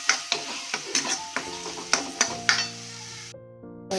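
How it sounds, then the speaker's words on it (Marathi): Cooked dal frying in a pan, with a series of sharp spoon clinks and scrapes against the metal over a light sizzle, followed by a soft steady hum. "आता यात थोडी शिजवलेली डाळ पण टाकणार आहोत. ती पण फ्राय करणार आहोत."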